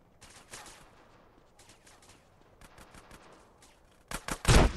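Scattered gunshots pop in Grand Theft Auto: San Andreas, starting as faint, spaced bursts and ending in a louder close volley of rapid shots.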